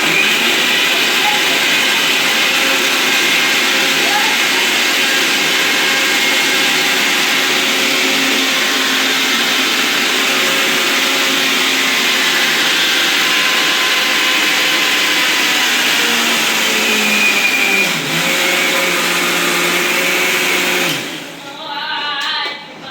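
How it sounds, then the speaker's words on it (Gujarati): A loud mixer grinder whirs steadily for about twenty seconds grinding tomatoes, its motor pitch shifting slightly, before it winds down and stops. "કરીને મિક્સરના ઓલામાં નાખી દેવાનું"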